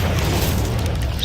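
An Incendio fire spell cast in Hogwarts Legacy gives a loud, dense whooshing burst with a deep booming body, filling a short moment without pause.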